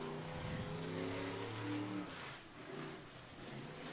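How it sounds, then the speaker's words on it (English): A figure 8 race car engine with a misfire drones at a distance during practice at the Speedrome, its uneven tone fading and wavering as the car moves, with no talk over it. "I'm hearing a miss on that one."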